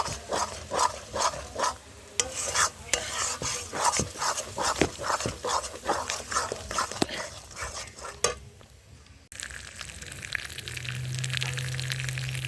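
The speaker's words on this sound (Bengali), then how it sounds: "এখন এটাকে আমি তেলে ভাজা করব" Ground bottle gourd leaf paste sizzles and fries in hot oil while a spoon repeatedly scrapes and stirs against the pan, a busy rhythmic clatter; the sizzle continues alone near the end.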